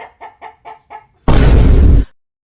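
Five short, evenly spaced hen clucks, then a sudden loud burst of noise that lasts under a second before the clip goes quiet.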